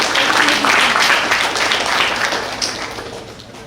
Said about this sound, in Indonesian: Beri aplaus untuk kedua narasumber.